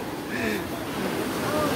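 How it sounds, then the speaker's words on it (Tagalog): Strong sea waves surge and wash at the open pipe swimming spot in Mariveles, Bataan, a steady broadband roar with wind noise on the microphone and people talking faintly nearby. "lakas ng alon, no"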